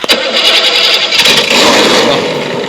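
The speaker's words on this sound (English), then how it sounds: "There's not just one car sound on this." A remote-control car's engine sound effect plays as a loud, continuous buzzing motor drone with a brief rev at the start, steady throughout and close.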